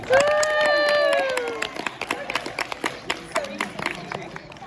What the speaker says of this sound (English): can I have a round of applause for Jason?